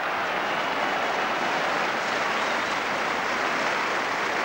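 Hull spectators applaud at a 1983 rugby league match between Hull and Barrow, a dense, steady crowd clapping that fills the whole stretch, loud and continuous with no break.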